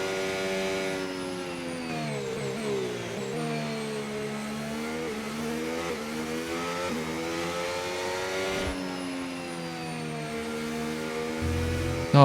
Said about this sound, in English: The engine sounds so good now, especially the downshift